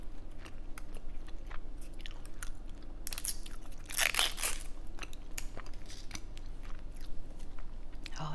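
Crispy Korean mozzarella corn dog dipped in ranch is bitten and chewed close up, with a loud crunchy burst near the middle among softer wet chewing sounds.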